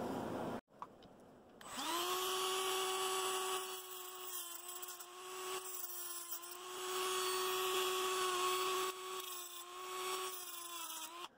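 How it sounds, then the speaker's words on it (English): A Dremel rotary tool whines at a high, steady pitch as it notches the plastic base of a Hot Wheels mainline '61 Chevy Impala, running continuously and close with slight load changes and no talk. "Put that same notch you see on the factory side on the bottom with the Dremel tool."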